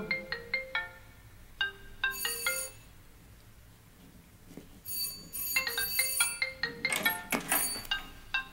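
A telephone rings in repeated bursts of bright electronic trills, with gaps between them and a busier, denser stretch of ringing toward the end.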